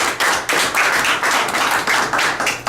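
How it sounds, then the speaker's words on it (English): Audience applause welcoming a speaker at a wealth academy event, a loud, dense burst of clapping from a crowd, steady throughout, heard close. "So please give him a big round of applause."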